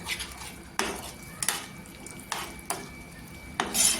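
Semolina sheera being stirred in a pan after a pinch of orange food colour is added, with several sharp spoon scrapes against the metal over a soft background hiss, no talking.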